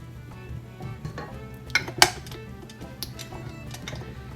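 A utensil scraped clean against a pan or bowl while making lemon gooey butter bars, giving a few brief, close scraping and clinking strokes, the sharpest pair near the middle, over a quiet kitchen background.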